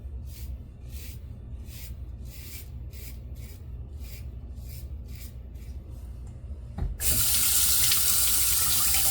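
Water running from a bathroom tap to rinse after a wet shave starts abruptly near the end, loud and steady, following quieter faint rubbing sounds.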